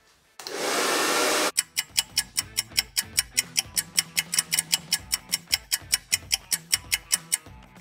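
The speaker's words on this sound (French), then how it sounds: "je vais me sécher les cheveux" A handheld hair dryer blows a steady loud whoosh for about a second while drying hair, then cuts off, leaving a rapid regular ticking that runs on to the end.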